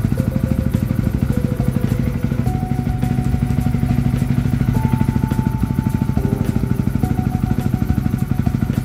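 A Yamaha WR 155 with a bored-up engine idles close by, a steady rapid thumping pulse with a faint whine drifting in pitch, running alone without talk.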